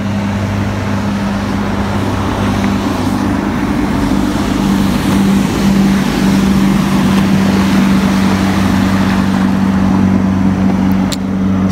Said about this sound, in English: coming around the corner is a ski boat pulling a skier.